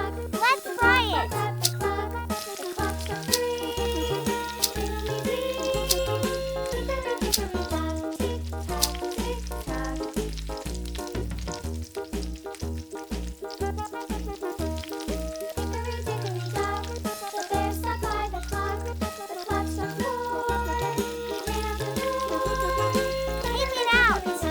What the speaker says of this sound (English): Let's fry it.